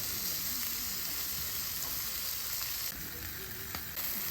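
Food pan-frying over a small wood-fired tent stove, a dense continuous sizzle close and steady for the whole stretch, with no talk.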